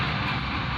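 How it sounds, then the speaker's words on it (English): An airplane passing over a city in an AI-generated scene gives a loud, steady roar of engine noise, dense and unbroken throughout, with no talking. "the plane went across the city"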